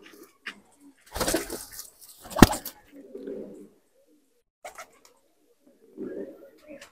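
Punjabi Malwai pigeons give a few soft, low coos in short bursts with gaps of quiet between them, close by, along with some brief rustling and flapping.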